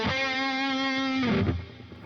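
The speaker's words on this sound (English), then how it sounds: "I think I'll go with the plate reverb for this one." An electric guitar played through a Mooer GE300 amp modeler with plate reverb sustains a single distorted note for over a second, then slides down and fades into a short reverb tail.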